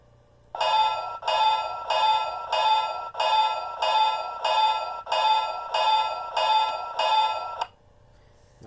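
A steel-type bell on a Bachmann H-24-66 Trainmaster model locomotive, electronically reproduced, ringing loud and close in about eleven evenly spaced strokes, each one ringing out briefly before the next, then falling silent.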